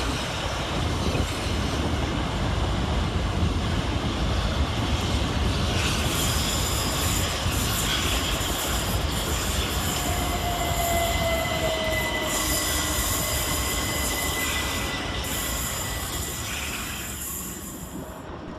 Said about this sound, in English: Up next to arrive is 375819 and 375910, working the 1225 Southeastern service from Hastings to London Charing Cross